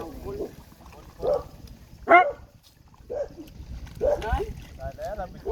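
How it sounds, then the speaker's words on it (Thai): A dog barks several times at a distance, short sharp yaps spaced across the moment, amid a rural Thai folk-theatre scene with people talking in between. "เฮ้ยหมามันเห่าหยังนั่น"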